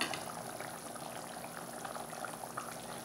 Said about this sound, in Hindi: अब इसमें ये अंडे को हम तोड़कर डालेंगे इस तरह से।